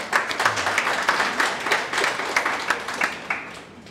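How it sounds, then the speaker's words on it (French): Audience clapping at a French job-dating panel, with distinct claps in a loose rhythm that stay moderately loud and unbroken for about four seconds. "Merci de m'avoir applaudi."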